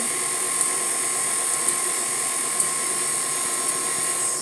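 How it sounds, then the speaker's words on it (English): An electric mixer runs steadily on low, combining the wet and dry ingredients of a lemon cake batter. It gives a continuous, even mechanical whir with faint rhythmic ticks and no talking. "We're going to turn this mixer on to low so these ingredients can start, the wet and the dry ingredients can start combining."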